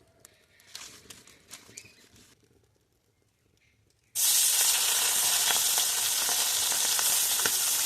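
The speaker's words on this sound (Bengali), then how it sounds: "অল্প অল্প করে ভেজে নিই। বাকি মাছগুলো ভেজে দেবো আমি।" Small chuno puti fish drop into hot oil in a wok and burst into a loud, steady, close sizzle after about four seconds of quieter kitchen clatter.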